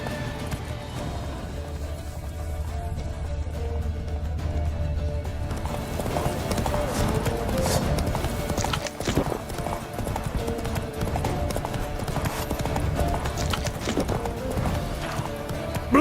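Hooves of Roach, the horse in The Witcher 3, clop in a quick rhythm close by, rising to a louder gallop with a brief whinny amid game sounds.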